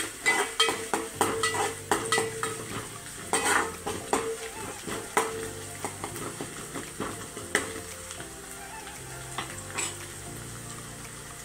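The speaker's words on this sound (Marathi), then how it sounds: "आता कांदा घालून ना आपण व्यवस्थित हे परतून घ्यायचं।" Onion sautéing with curry leaves in a pan for chicken liver masala, with steady sizzling and frying broken by repeated stirring and spatula scrapes against the metal pan, close and continuous throughout.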